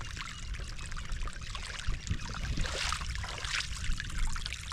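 Irrigation water spills over from a village channel into a low-lying field, a steady pouring and trickling rush close by with slight surges.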